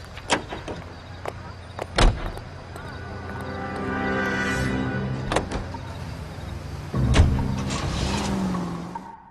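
A car in the video game L.A. Noire: several sharp door thuds and clicks, then a steady engine hum as it drives off, with voices talking over it.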